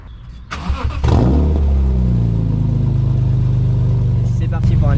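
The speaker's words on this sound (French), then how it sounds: "On va vous faire écouter le moteur." Engine of a BMW M3 E46 Cabriolet starting up and settling into a steady, loud idle with a rising rev near the end, close by, with talk in the background.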